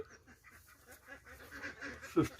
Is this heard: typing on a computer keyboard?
no